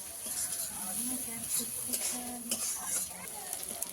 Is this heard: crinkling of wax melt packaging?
no